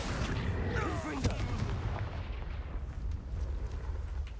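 A Confringo blasting spell goes off in the Hogwarts Legacy video game, a loud booming burst with a rumbling tail. Dense game effects and ambience run through the rest.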